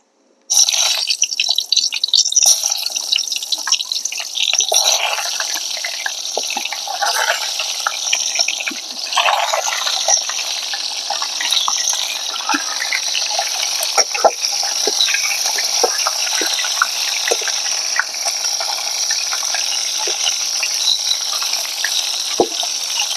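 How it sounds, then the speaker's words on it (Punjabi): Eggplant frying in hot oil sizzles and crackles steadily up close, with scattered pops and spatters breaking through the continuous hiss. "ਆਪਣਾ ਤੇਲ ਗਰਮ ਹੋ ਗਿਆ ਹੁਣ ਬੈਂਗਣ ਫਰਾਈ ਕਰਾਂਗੇ"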